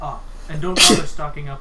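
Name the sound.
sneeze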